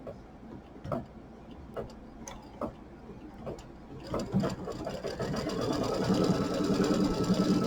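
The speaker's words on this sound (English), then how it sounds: "I'm going to cover the placement line with the red for my second pennant, and then I'm going to stitch the top down." An embroidery machine stitches a red fabric pennant along its placement line. Regular mechanical ticks come first, then a steady, louder whirring drone builds toward the end, fairly close.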